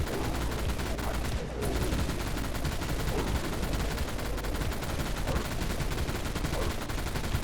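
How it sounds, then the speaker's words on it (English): A minigun firing in the game Dead Frontier, an unbroken, loud rapid stream of shots that holds a steady, dense rattle for the whole stretch with no pauses. "And this should be an N-tier minigun"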